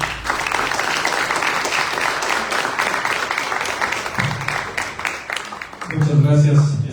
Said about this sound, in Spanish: Pues un aplauso para todos ustedes